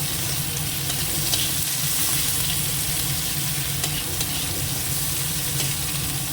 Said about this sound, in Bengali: টমেটোটা কুচুনো একসঙ্গে একটু ভাজা হয়ে যাবে